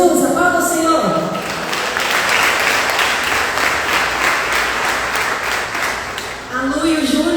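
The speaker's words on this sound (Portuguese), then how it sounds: "Aplauda o Senhor." A church congregation at a Portuguese-language mission day event bursts into sustained applause, loud and dense throughout, with a speaking voice heard at the start and again at the end.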